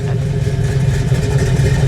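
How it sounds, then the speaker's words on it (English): A 1970 Plymouth Cuda 440 V8 revs up close, a heavy, loud low-end roar that pulses through the whole short burst with no talk. "Go ahead, give it a rev."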